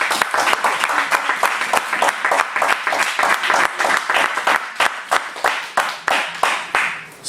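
A church congregation applauds steadily, a dense run of many hands clapping in a loose rhythm, loud and close, with faint voices underneath.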